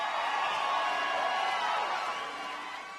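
Cage-fight audience roaring for black corner fighter Hannah Silva, a dense sustained crowd cheer that holds strong and then eases slightly toward the end.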